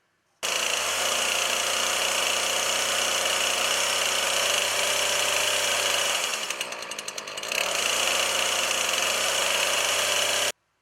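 A chainsaw engine roars steadily at close range, briefly dipping and straining in the middle before returning to full, continuous revving.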